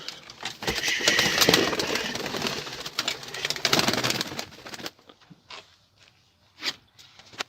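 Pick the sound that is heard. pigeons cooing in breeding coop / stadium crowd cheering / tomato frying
pigeons cooing in breeding coop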